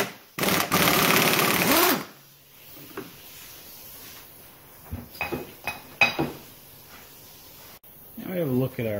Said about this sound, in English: we're going to use the impact wrench to get this off easily